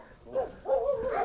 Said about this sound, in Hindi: घरों के अंदर से कुत्तों की आवाज़ आ रही है,